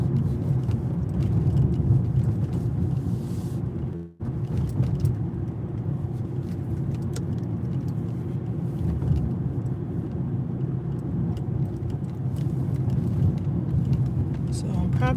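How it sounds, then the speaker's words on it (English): Car driving home on a potholed city street, a loud steady engine and road rumble up close from inside the vehicle, with a brief dropout partway through and faint voices in the background. "I'm probably gonna get silent as I drive home"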